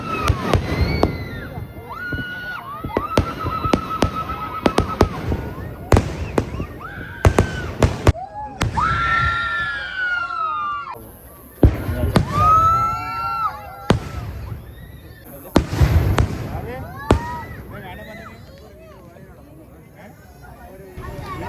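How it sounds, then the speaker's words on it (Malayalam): Festival fireworks at the Andalur thira (theyyam) in Kannur, Kerala, with repeated sharp bangs and crackling bursts at irregular intervals. Loud voices talk nearby over the explosions throughout. "നല്ല ജോളിയായിട്ട് വെടിക്കെട്ട് കാണാൻ വേണ്ടി വന്നിട്ടുണ്ട്"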